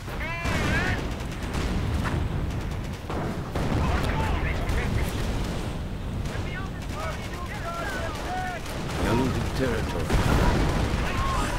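Gunfire and artillery in a Company of Heroes real-time strategy game, with dense rattling small-arms bursts, booming shell impacts and mortar fire, and whistling rounds layered continuously under a commentator's steady talk.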